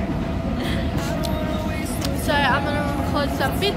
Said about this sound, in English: We are on the train right now